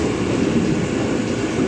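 A fast Mumbai local train rolls out of CSMT, a loud continuous rumble and rattle heard from inside the carriage, steady throughout the brief moment.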